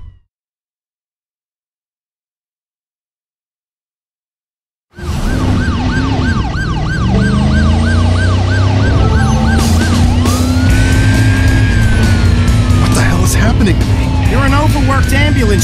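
Wailing ambulance siren from the Driver San Francisco video game, loud and close, starting abruptly after several seconds of silence and cycling steadily alongside car engine noise.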